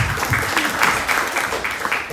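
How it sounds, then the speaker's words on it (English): An audience at a panel talk on AI and transhumanism claps for a speaker, a brief, full burst of steady applause from a sizeable crowd heard close and loud. "let's another round of applause for Andrew Despi, please"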